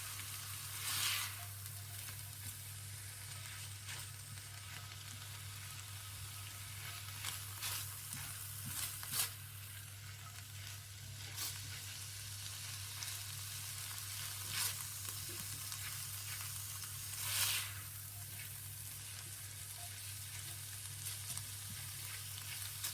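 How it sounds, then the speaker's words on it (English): Tomato puree and garlic sizzle quietly in a pan as they are stirred. The frying hiss is steady and soft, and occasional brief scrapes of the spoon rise a little above it. Nobody speaks. "I'm going to give that a good mix in and let it just cook for a minute. Just take the edge off the tomato puree and the garlic"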